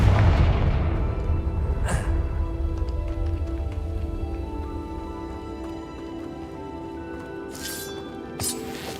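A Confringo blast spell explodes in Hogwarts Legacy, a heavy boom at the start decaying into a rumbling tail, with a few sharp magical zaps and a small pop later, loud and close.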